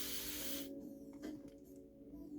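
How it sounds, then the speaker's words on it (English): A continuous-spray bottle misting water onto type 4 curly hair gives one steady, close hiss for about 0.7 seconds and then stops, leaving faint room noise. "I'm gonna spray this once."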